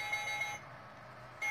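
A digital illuminated wall clock sounds its alarm, a steady high electronic beep tone that drops out briefly and then resumes, heard close and fairly quiet in a room with no talking.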